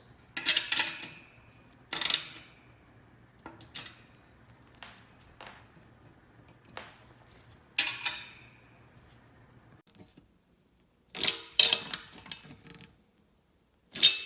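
Screws being tightened on an Innova inversion table during assembly: a string of short ratcheting and clicking bursts of uneven length, near and moderately loud, separated by quiet pauses, with a dense cluster of clicks toward the end.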